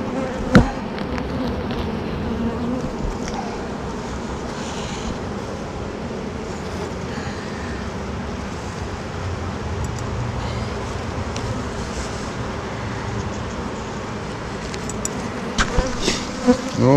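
Honey bees buzz around hives during an early spring inspection, a dense, continuous droning swarm close by, with faint traffic noise in the background and a few handling clicks near the end.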